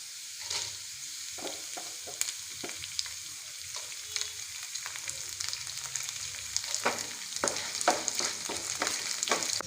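Dried red chillies fry in hot oil, a soft steady sizzle broken by crackles and the scrape of a stirring spoon in the pan, with no talking.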